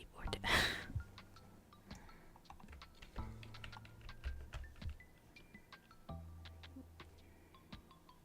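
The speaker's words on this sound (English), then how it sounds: "sorry if you can hear my keyboard." Computer keyboard typing during 3D modeling: scattered, fairly faint key clicks and taps through the whole stretch, close by, with a brief breathy sound at the start and a low hum underneath.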